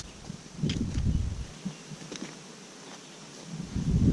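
Honeybees buzzing around a hive during a smoked inspection outdoors, a soft insect hum mixed with rustling and low handling noise, moderately close and steady with a few louder swells.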